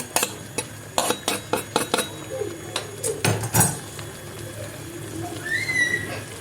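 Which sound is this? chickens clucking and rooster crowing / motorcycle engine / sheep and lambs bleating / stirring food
stirring food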